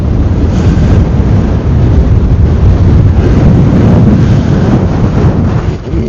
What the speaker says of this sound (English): The wind is definitely increased, temperature dropped.